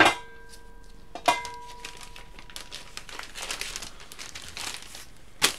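A plastic Ziploc bag holding homemade clay crinkles and rustles as air is pressed out of it, with sharper knocks near the start and at the very end.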